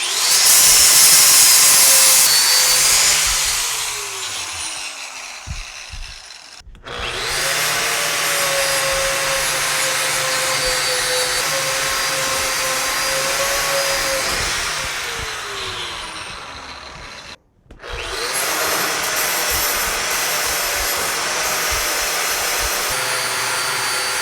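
An angle grinder fitted with a Klingspor Titan SMT 975 ceramic grain flap disc grinds down welds, a loud sustained high whine and rasp running in three long passes separated by brief stops, close with no talk.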